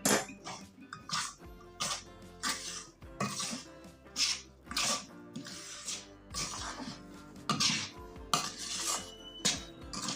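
A utensil works a rava and besan barfi mixture with sugar syrup in a pot, making repeated scraping and clanking strokes in an uneven rhythm, close and fairly loud, with no speech.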